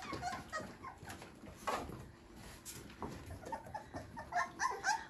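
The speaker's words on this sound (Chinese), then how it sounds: "我让你看你小狗打架呢" Several young puppies scuffle and play-fight up close, with yips, whimpers and scrabbling bursts that come and go unevenly throughout.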